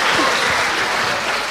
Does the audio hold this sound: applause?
yes